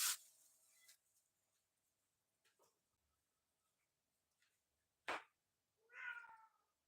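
A house cat gives a few short meows with quiet gaps between them, then one louder, drawn-out meow near the end, close by in a quiet room.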